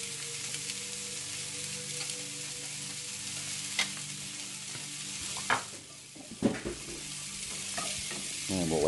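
Mushrooms fry in a cast iron pan with a steady, soft sizzle, broken by occasional louder stirring scrapes and clacks of a utensil against the pan.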